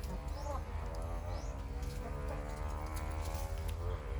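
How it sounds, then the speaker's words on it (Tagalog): Chickens cluck and squawk steadily, several birds at once, with farmyard noise throughout and no voices. "maingay maingay talaga dito guys dahil maraming mga manok"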